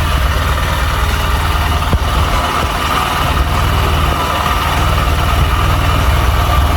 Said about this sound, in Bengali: এবার এটাকে কোল্ড স্টার্ট করা যাক। এদিকে বাইক হচ্ছে কোল্ড স্টার্ট।